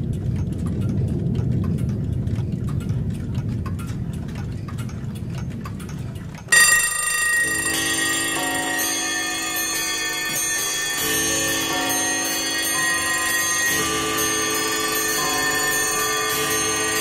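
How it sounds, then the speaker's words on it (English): Numerous clocks ringing out at once, loud, sudden and alone, with bells and chimes clanging and ticking over a long stretch after a quieter, muffled opening of running footsteps and ticking. "All at once, numerous clocks ring out"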